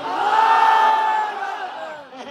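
A large crowd at a Bangla religious gathering shouts Allahu Akbar in unison in answer to a takbir call, one loud sustained collective cry that swells and then fades out.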